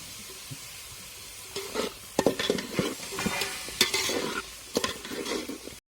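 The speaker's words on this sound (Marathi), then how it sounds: "सगळ्यात शेवट आपल्याला बटाटा टाकून द्यायचे परतायला" Potatoes sautéed in a pot for a village-style masale bhat make a close sizzle broken by repeated scraping stirs and light clinks of a utensil against the pot, with no voices.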